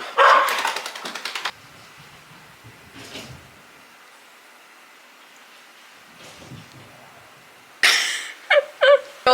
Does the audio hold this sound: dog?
yes